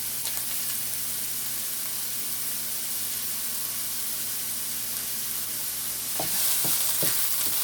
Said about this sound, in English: I'm letting the onion saute a bit before I add the garlic